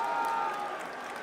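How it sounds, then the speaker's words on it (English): Restless crowd noise at a Super Smash Bros. Melee tournament, a steady, fairly loud wash of murmuring and grumbling spectators with a held tone underneath, easing slightly toward the end. "listen to the crowd. Yo, the crowd is not happy."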